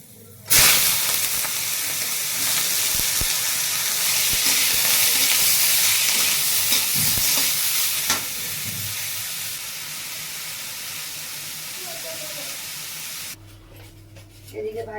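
Vegetable bhaji in a home kitchen starts frying in hot oil tempered with nigella and fenugreek seeds, with a loud, sudden sizzling hiss that holds steady and then drops away, punctuated by faint stirring clicks.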